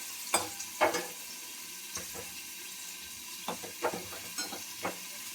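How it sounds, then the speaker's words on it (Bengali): Eggplant fries in hot oil in a home kitchen, a faint steady sizzle broken by several sharp clinks and scrapes of stirring. "আর এদিকে আমার বেগুন ভাজা হয়ে যাচ্ছে"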